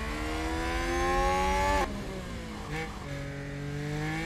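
Formula 1 car in a racing video game, a loud whining engine climbing in pitch, then cutting abruptly under braking before re-accelerating with a lower, rising drone; no talk.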